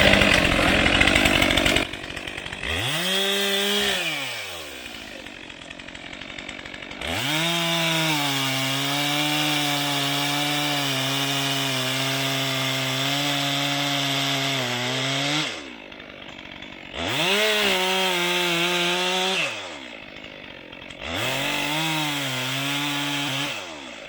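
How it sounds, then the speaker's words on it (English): Chainsaw boring into a tree during felling, close and loud, with the engine revving up and bogging under load in several long bursts separated by brief idling pauses. "I'm going to use a bore cut. I'm going to bore through. I'm going to cut down"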